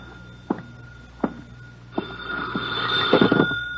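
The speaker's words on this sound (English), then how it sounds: "I sat down to wait for him, and the phone started ringing." In a radio drama set in an empty office, a telephone rings with a bright electronic trill, preceded by a few soft thuds like footsteps or a chair. The ring builds near the end.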